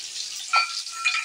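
Green and black cardamom with cinnamon sizzling in hot oil beside chopped onions for chicken biryani, a brief steady hiss with a small crackle near the middle.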